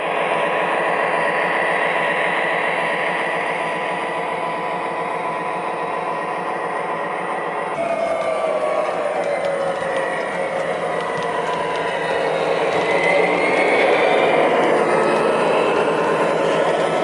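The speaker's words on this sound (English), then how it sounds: "This is an MTH Premier Western Maryland SD35. Another one that I really enjoy running." An MTH Premier Western Maryland SD35 O scale model diesel locomotive running on track, a continuous electric motor whir and rumble with a sound-system engine drone, moderately loud and steady, with no voices.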